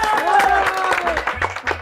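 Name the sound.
clapping applause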